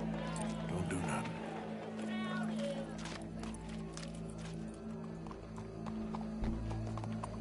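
Horse hooves clop steadily in a video game streamed on PS4, with ambient game music, neighing and occasional character voices mixed around the rhythmic footfalls.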